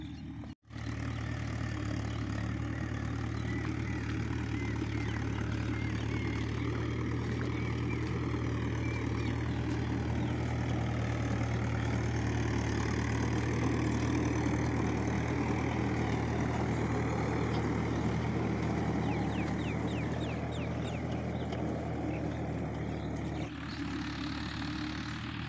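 A tractor engine works in a muddy, watery field, a steady loud droning rumble that holds unbroken for nearly the whole stretch after a brief cut at the start.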